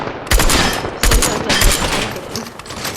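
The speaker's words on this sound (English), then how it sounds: "So that's a striker burst rifle right there" A Striker Burst Rifle in Fortnite empties a full magazine: loud, close, rapid bursts of gunfire arrive in distinct clusters with brief gaps between them, with no voices.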